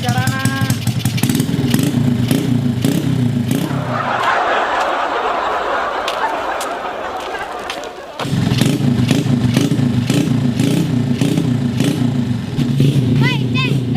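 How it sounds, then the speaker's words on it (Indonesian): A motorcycle engine is revved hard nearby, a loud, rough, pulsing roar that drops away for a few seconds mid-clip before surging back. "ulah ngageber-geber motor bae"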